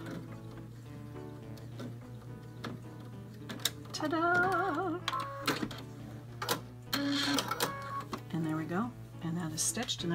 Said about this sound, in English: I might want to be ready at any moment to run the flywheel by hand here